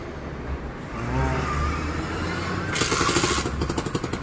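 An old motorcycle engine runs on a test start, a close, steady putter that rises in revs partway through into a faster, rougher pulsing idle, with no talking.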